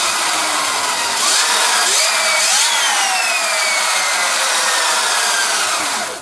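A Sur Ron Light Bee electric motor spinning the raised rear wheel under throttle, a loud steady high whine that ramps up and holds for several seconds, then cuts off at the end.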